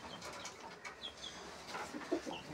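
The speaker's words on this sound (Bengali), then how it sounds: "পায়রাগুলো আগে বের করে নেই।" Pigeons are let out of their covered coop, giving faint scattered coos and soft wing flutters against a quiet background.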